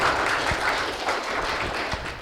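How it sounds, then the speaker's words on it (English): Applause from a symposium audience honoring a longtime attendee, a steady wash of many hands clapping together at moderate loudness, with no voices over it. "So I think that deserves a round of applause right there."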